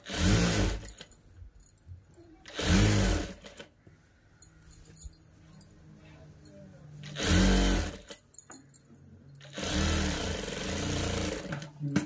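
A sewing machine runs in short bursts while stitching a children's frock made from an old saree, four loud whirring runs separated by quiet pauses with faint handling noises, up close.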